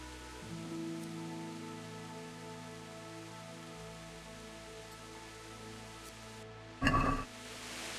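Steady rain in the video game Kingdom Come: Deliverance patters on a surface throughout, with a low ambient hum underneath and a brief louder splash or thud near the end.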